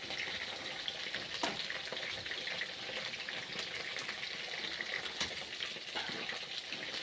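Luchi, a puffed flatbread, fries in hot oil with a steady, bubbly crackle and hiss that stays even throughout, close and moderately loud, with a couple of faint knocks and no voices.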